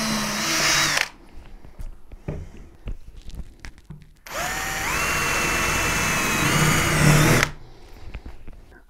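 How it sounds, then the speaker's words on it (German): A power drill bores two holes in a base for a magnetic power coupling, giving two bursts of loud, close whine, the second longer and rising in pitch, with clicks and handling noises between them. "Und jetzt mache ich schon mal gleich die zwei Löcher für meine"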